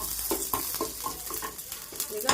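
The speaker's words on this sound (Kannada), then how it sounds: "ಸ್ವಲ್ಪ ಕರಿಬೇವಿನ ಸೊಪ್ಪು ಹಾಕಿ ಸ್ವಲ್ಪ ಮಿಕ್ಸ್ ಮಾಡಿ" Mustard seeds and curry leaves sizzle in hot oil as a tempering for chutney, crackling steadily close by while a spoon stirs with several quick scraping strokes.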